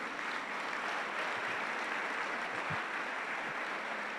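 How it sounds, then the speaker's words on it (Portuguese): A church congregation applauds during a sermon, a steady wash of clapping from a crowd holding even and moderately distant throughout. "E aplauda o seu pai por isso."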